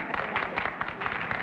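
A studio audience on a panel game show applauds in a continuous, moderately loud patter of many hands, steady throughout with no break.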